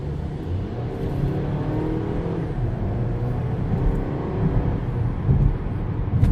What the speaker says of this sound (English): So what I'm going to do is somewhat of an acceleration as much as I can.